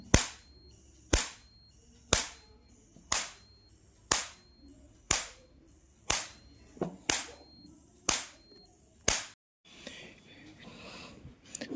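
Homemade jhatka electric fence shock machine sparking with current, giving about ten sharp loud cracking snaps at a steady one-per-second rhythm, then a softer crackling hiss at the end.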